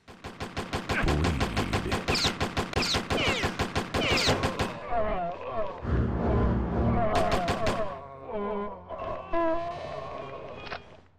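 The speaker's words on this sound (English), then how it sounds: "the weak machine gun sound effect that plays during the execution ruins any sort of" A weak, thin machine-gun sound effect plays during an execution in the game Postal: a rapid, even burst of gunfire for about five seconds, a brief second burst, then scattered game sounds.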